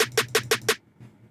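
SD Snare Evoke snare sample from a Slate Digital hip hop pack, five crisp bright snare hits in quick even succession, followed by a faint trailing tail.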